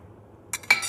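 A metal lid lifts off a simmering pot of Kerala vegetable stew with two quick clinks and rattles after a near-silent pause, close and bright.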